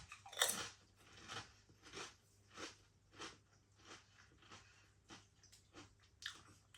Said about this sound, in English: Lovely and crispy and crunchy.